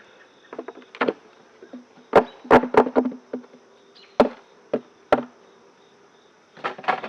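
Honeybees disturbed at an open hive during an inspection, giving faint, scattered buzzing with a few louder close passes and sharp knocks of hive equipment, over an otherwise quiet background.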